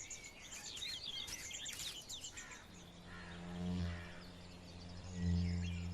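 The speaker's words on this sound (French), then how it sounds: "Cette fauvette épervière a pioché dans la colonie de chenilles de pan du jour de quoi nourrir ses oisillons." A barred warbler feeding its nestlings near a caterpillar colony: high chirps and twittering calls fill the first half, then a low, steady hum with rising swells takes over, without voices.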